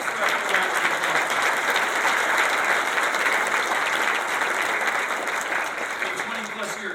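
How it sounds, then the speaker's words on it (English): Audience at a leadership breakfast gives donors a sustained round of applause, a full, even roar of clapping from a large crowd that stays strong throughout and tapers slightly at the close. "Can we please give these donors a special round of applause?"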